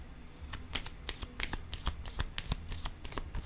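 Tarot cards are shuffled by hand, a quick run of crisp riffling flicks and soft slaps repeating at close range, quiet and alone.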